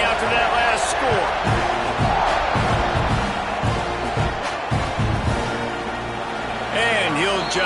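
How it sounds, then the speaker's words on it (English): A stadium crowd buzzes in the NCAA college football video game at a Texas A&M game, a constant roar with thuds and swells, while commentators talk over it. "this crowd is buzzing after that last score"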